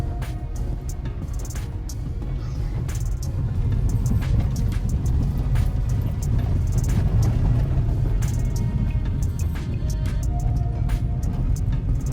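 Inside a Hyundai Santro climbing a rough hairpin hill road, a low engine drone and road rumble hold steady and loud throughout, with faint rattles from the cabin.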